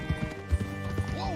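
A horse's hooves clip-clopping in Red Dead Redemption II, a few soft uneven footfalls mixed with game ambience while someone talks over them.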